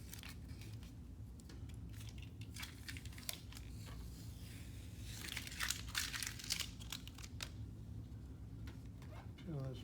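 Backing paper peels off an adhesive tank pad on a 2020 Triumph Rocket 3 motorcycle, with soft crinkling and tearing rustles up close that grow louder in the middle, over a low hum.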